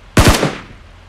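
A short, loud burst of automatic gunfire in a mobile battle-royale shooter, two or three rapid shots fired close together and then a brief decaying tail, with no talk over it.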